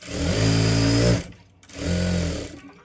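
A sewing machine stitches a katori blouse in two loud, close bursts of motor hum, the first longer, with a brief pause between them.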